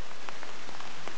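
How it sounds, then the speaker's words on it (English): Steady rain falls on a garden pond with thick vegetation, a dense hiss of drops patters evenly across the water and leaves throughout, with no voices. "I'm sorry, but it's raining as usual"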